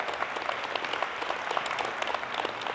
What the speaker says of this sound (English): give Dr. Avadia a big round of applause